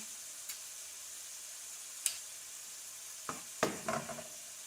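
Freshly pressed garlic is stirred into onions frying in a pot, giving a soft, steady sizzle broken by a few sharp utensil scrapes and taps near the end, close and quiet with no voices.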